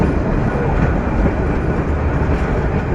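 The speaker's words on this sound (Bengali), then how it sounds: "এই ট্রেনটি এয়ারপোর্ট হয়ে চলে আসলো এখন জয়দেবপুর স্টেশনে।" A passenger train from Dhaka Kamalapur, via the airport and bound for Mymensingh, rumbles steadily into Joydebpur station, a loud, continuous close rolling roar with faint wheel clatter.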